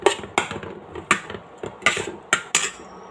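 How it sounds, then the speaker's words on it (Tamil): A spoon clanks against a pot while cooked rice is mixed and mashed for pongal. The sharp metallic knocks come in an uneven rhythm, about eight of them, close and clear with no talking. "இப்போ இது நல்லா மிக்ஸ் பண்ணிக்கலாங்க."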